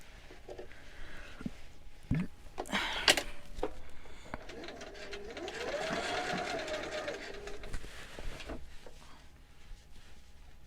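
A sewing machine sews through stiff interfacing to close up a replaced zipper, a short steady run with a few sharp clicks and knocks before it, heard close with no talk.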